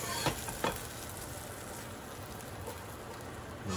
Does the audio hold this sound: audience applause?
no